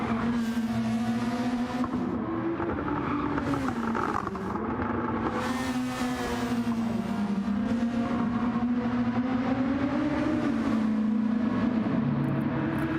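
Touring cars race side by side around Trial Mountain in a racing game, their engines droning steadily and loudly throughout with shifting pitch as the pack holds close together.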